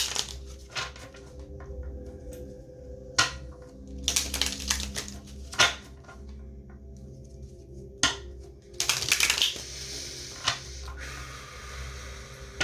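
Tarot cards are shuffled by hand in repeated bursts of papery riffling and slapping, with irregular pauses and some louder flurries.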